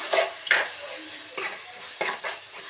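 Shallots and garlic sizzle in hot oil in a pan for a Kerala mackerel curry, with a few scraping spoon stirs against the pan at intervals and no talking.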